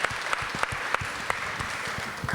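A festival audience at a Q&A panel claps steadily and loudly, dense applause with occasional sharper claps standing out, no voices over it.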